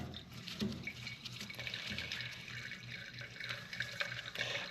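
Fuel from an old, long-parked tractor trickles and splashes steadily out of its sediment bowl, a continuous close liquid pour with small irregular spatters and no voices.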